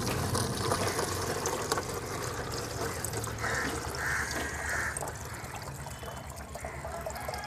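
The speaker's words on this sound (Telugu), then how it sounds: "ఇందులో వాటర్ పోస్తాను." Water is poured into a container to make banana peel fertilizer, giving a steady close trickle and splash with a brief higher gurgle partway through. A faint voice is heard in the background.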